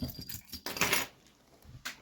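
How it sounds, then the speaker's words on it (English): A bunch of keys jangles briefly in a bag, a short metallic rattle with a few soft clinks and rustles around it. "My keys."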